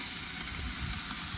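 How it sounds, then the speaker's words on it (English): Chicken thighs brushed with barbecue sauce and brown sugar sizzle on a grill, a dense, even hiss and crackle filling the whole short moment without a break. "Gonna put it on the grill"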